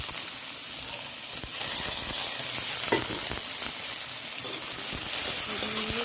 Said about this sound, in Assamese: এতিয়া মই ইয়াত প্ৰথমত দিছোঁ আলুখিনি, আলুটো দি লওঁ।